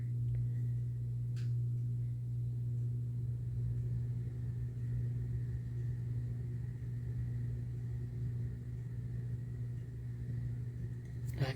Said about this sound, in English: the air conditioner just kicked on, so if you hear that noise in the background